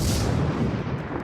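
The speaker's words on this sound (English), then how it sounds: "Oh, this is airstrike." Heavy airstrike explosions in the video game Half-Life 2 boom and roll continuously for a moment, a dense loud rumbling blast with no pause.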